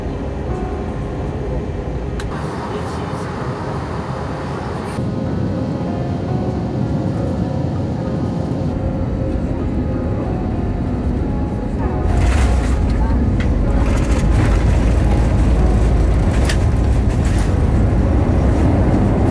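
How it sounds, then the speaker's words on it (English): Tibet Airlines Airbus A319 NEO landing at Chengdu Shuangliu Airport, heard as a steady, loud cabin roar of engines and rolling that swells heavier toward the end, with no talk over it. "We have landed at Chengdu Shuangliu Airport, the older of the two airports in Chengdu."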